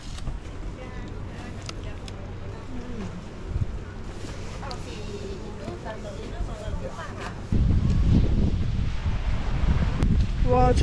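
Cold wind gusts outdoors in heavy snow at Shirakawa-go, Japan, a steady roaring rush that grows louder near the end, with faint voices in the background.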